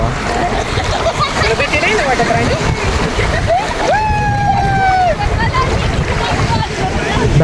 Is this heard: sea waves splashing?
yes